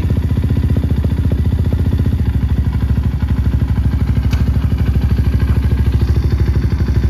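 A Kawasaki KLX230R 233 cc enduro dirt bike with a Takagami exhaust idles close by with a rapid, even putter, loud and continuous, with a faint mechanical clatter.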